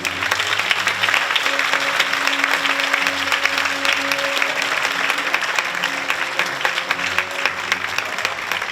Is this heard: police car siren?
no